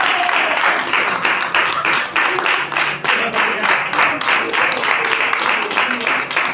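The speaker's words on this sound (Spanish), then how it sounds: "Dale un aplauso a Jesús." Loud, sustained applause from a large church congregation, many hands clapping in a fast, dense patter that continues throughout.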